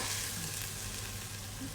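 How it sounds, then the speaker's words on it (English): Steady, close sizzling and crackling of tomato paste frying in a pan, continuous and fairly loud with no talking. "sizzling tomato paste"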